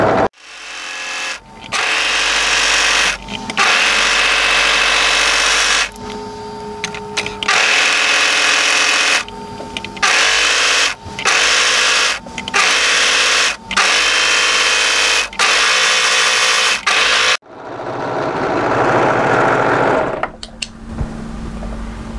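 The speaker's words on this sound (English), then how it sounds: "we're just going to be using our overlocker to tidy up the threads" An overlocker stitching and trimming the seams of an asymmetric draped tee dress, loud close bursts of rapid mechanical whirring that start and stop repeatedly, then one longer run near the end.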